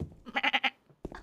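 A person imitating sheep, with a quick run of four or five nasal bleating pulses, close and fairly loud, then a short pause and a brief vocal sound at the end.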